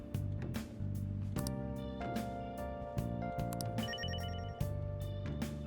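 A telephone ringtone in the video game Persona 5 Royal plays as a steady, repeating electronic melody with a regular beat, clear and continuous with no talk over it.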